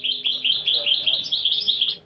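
Goldfinch song, a continuous run of bright, rapid twittering chirps and trills, close and clear, with no talk.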